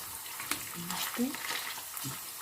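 Pork belly for sisig fries in a covered pan, giving a continuous close sizzle with scattered sharp pops and spatters and a few faint lower thumps.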